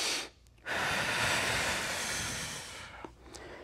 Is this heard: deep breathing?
yes